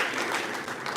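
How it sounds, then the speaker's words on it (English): Brief burst of audience hand-clapping for a speaker from a school registrar's office at a university event, a dense, moderately loud patter of many hands with no talking. "Please kindly give him a bigger hand clap."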